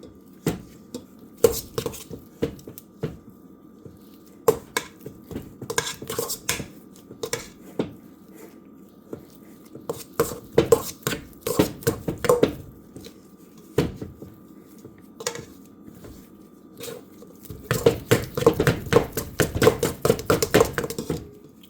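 Margarine being creamed in a mixing bowl for an orange cake, with repeated clattering and scraping of a utensil against the bowl in bursts, close and busy, heaviest toward the end.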